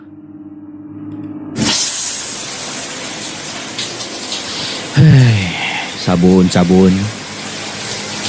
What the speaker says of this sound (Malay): Saya hidupkan balik pipe hujan tu.